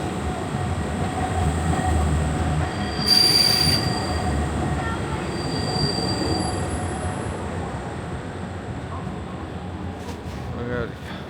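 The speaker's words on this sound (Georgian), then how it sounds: "ლამაზი ტრამვაი" A tram rolls along a Prague street, its wheels squealing in long high tones over a steady low rumble of the rails, close and fairly loud, while a person talks nearby.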